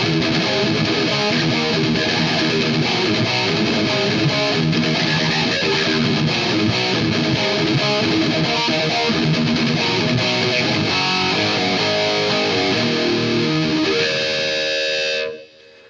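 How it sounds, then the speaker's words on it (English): Distorted electric guitar through the Boss GT-8's Metal Stack high-gain amp model, a dense, loud, continuous wall of saturated riffing that cuts off abruptly near the end. "it's called Metal Stack in here, which is probably just a kind of a full-on Metal Marshall monster amp."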